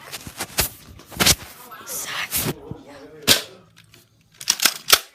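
Nerf blasters in a backyard-style war game, several sharp snapping shots scattered irregularly amid excited voices and shouting.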